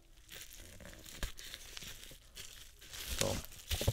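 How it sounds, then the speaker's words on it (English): Packing tape is pulled and pressed onto a cardboard shipping box, producing crinkling, tearing strips of sound, close and fairly quiet, with the last stretch growing louder. "just tape it a little bit more"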